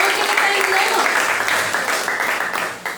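A church congregation claps together in a sustained round of applause during a worship service, loud and close, with a voice carrying over the clapping before it thins out near the end.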